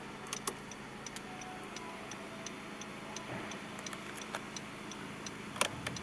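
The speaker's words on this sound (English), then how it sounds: "let's go ahead and turn on the hazards" Hazard lights ticking inside a 2013 Honda Accord 2.0 VTi, a faint, regular clicking that repeats about twice a second over a low cabin hum, with no talk.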